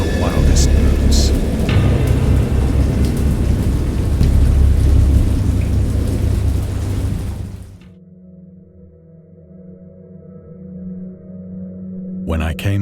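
A wild thunderstorm at sea, with loud, dense rain and low rolling thunder filling the first eight seconds before dropping abruptly to a quieter low rumble and a faint steady hum, then a brief burst of noise at the end.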